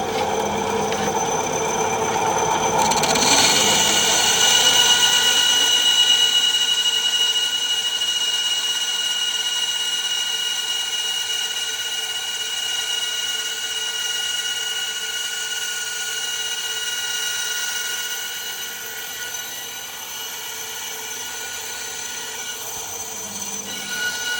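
Bandsaw cutting a puukko knife handle, a steady loud whining drone with a strong rising burst near the start that settles into a continuous tonal run, no talking.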